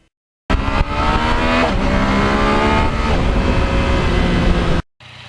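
A 2020 Yamaha MT-09 three-cylinder motorcycle engine revs hard and loud up close, a dense rising and falling roar held for about four seconds before cutting off abruptly.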